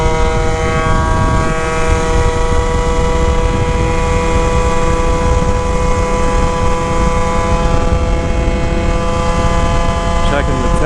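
Electric scooter at about 55 mph heading into a strong headwind, a loud, steady roar of wind buffeting with a whining motor drone running continuously throughout.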